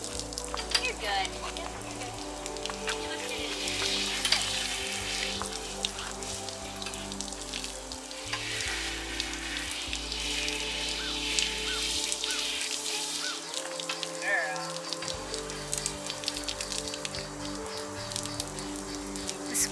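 A garden hose pinched under a thumb sprays water onto a horse, making a constant broad hiss and splatter close by across the whole stretch, with a low hum beneath and a voice briefly heard.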